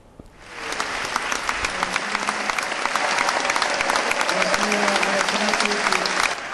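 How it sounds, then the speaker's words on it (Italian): A standing audience in Conegliano applauds Alex Del Piero as he enters to receive the Civilitas award. The clapping swells from quiet into a dense, loud, sustained ovation that holds steady to the end. "Entra tra gli applausi"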